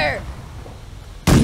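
Ship cannons in The Last Leviathan boom once as a sudden loud broadband blast near the end, after a quieter stretch with a voice shouting at the start.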